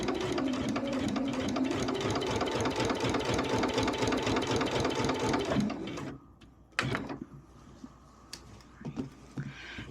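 A sewing machine runs a steady, fast stitching whir along a 1-inch seam joining rows of a jelly roll rag quilt, then stops, leaving a few soft handling clicks and taps.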